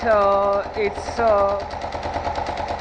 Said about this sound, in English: the bike now starts up fine, idles fine